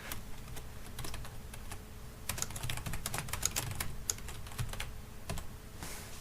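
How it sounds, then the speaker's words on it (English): Steady clicking of a computer keyboard while typing a Microsoft Word document, keys tapped in quick irregular runs with brief pauses, close and fairly quiet. "so I've started typing"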